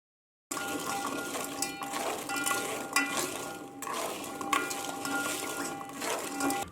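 A spoon stirs sugar, cooking oil and water together in a rice cooker's inner pot, making steady scraping and light clinking against the pot, close up and continuous with no voices.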